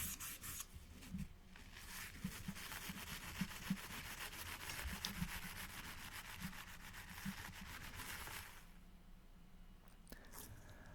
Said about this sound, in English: So I removed them using a sanding paper and plastic polish.